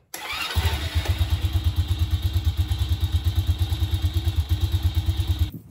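A Chinese 125 cc motorcycle engine is started before an oil change and settles straight into a close, loud idle with an even, rapid thumping rhythm that holds steady until it cuts off.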